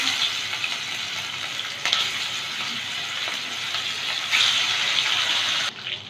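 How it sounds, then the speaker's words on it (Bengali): Ritha fish crackles and sizzles steadily in hot oil as it fries until crisp, a dense continuous hiss close to the pan with slight surges and no voices. "বাকি মাছগুলো ভেজে নেব"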